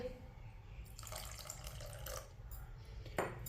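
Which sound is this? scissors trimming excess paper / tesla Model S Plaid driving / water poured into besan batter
water poured into besan batter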